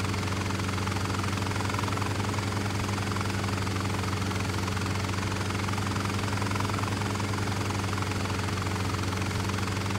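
A helicopter engine in Microsoft Flight Simulator X drones steadily, with a constant low rotor hum and an even whine, loud and unbroken throughout.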